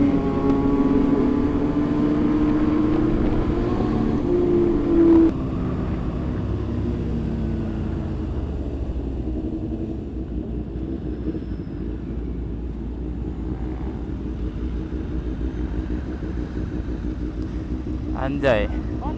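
A motorcycle engine revving hard during a wheelie on a Jakarta street, a loud roar that swells early, then recedes into a lower drone, with voices over it.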